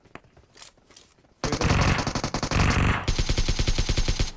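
Rapid automatic rifle fire in the mobile battle royale game PUBG Mobile, played on an iPad Mini 5, with a few quiet single shots followed by loud, close, sustained bursts of rhythmic shots.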